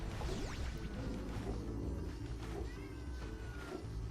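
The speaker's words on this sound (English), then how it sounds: "Cat's in here." A cat meows faintly in a room, a few soft drawn-out calls over a steady low background hum.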